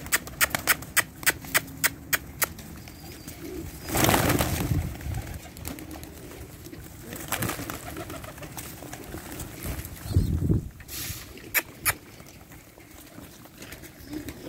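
Pigeons coo in low, soft bursts inside a home, mixed with sharp clicks and fluttering taps from birds moving around nearby.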